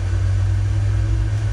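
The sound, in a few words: aircraft engines starting up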